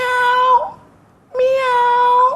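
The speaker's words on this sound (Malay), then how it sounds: "Saya rasa itu semestinya bunyi kucing." Two loud, clear cat meows, each a long drawn-out tonal cry, separated by a short pause, close and with no speech.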